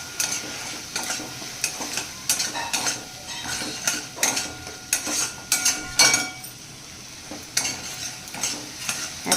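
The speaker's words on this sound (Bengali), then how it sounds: "ভালো করে নাড়াচাড়া করে নেব।" A spoon stirs spices with ground puffed rice and salt in a pan for jackfruit curry, making irregular repeated scraping and clinking strokes at close range, with a soft sizzle underneath and no talking.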